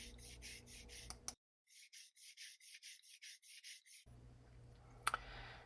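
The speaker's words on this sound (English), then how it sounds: "I'm using a very fine grain sandpaper here." Fine 400 grit sandpaper rubbing plastic straws for a miniature dollhouse floor lamp, a quick rhythmic series of soft scratchy strokes, about a dozen in a row, faint and close with no talking.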